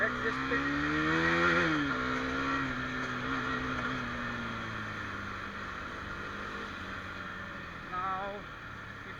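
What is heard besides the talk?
Husqvarna Svartpilen 250 motorcycle engine revving in first gear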